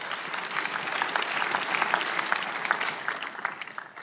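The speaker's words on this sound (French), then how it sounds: "Applaudissez pour lui" Church congregation applauding during a sermon, dense sustained clapping from a crowd that swells in the middle and tapers off at the end, with no speech over it.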